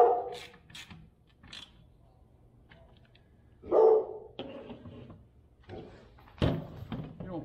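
A dog at a house gives a few separate loud barks spread across several seconds, with quiet gaps and small knocks between them.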